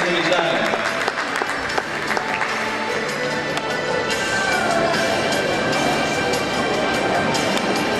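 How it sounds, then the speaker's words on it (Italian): Audience applause at a martial arts gala, sustained loud clapping from a large crowd filling a hall, with a voice speaking over it. "Un applauso ancora."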